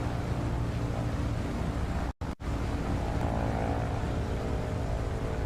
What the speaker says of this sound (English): We can hear the planes on the roll.